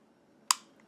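One short, crisp click from a Canik TP9SA pistol's trigger resetting, close and fairly quiet, standing alone against a near-silent background.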